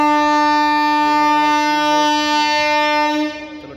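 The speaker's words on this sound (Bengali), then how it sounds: "এবার ট্রেনটা ছাড়বে।" At a station, a train about to depart sounds a long, steady horn blast that holds loudly before fading out at the end.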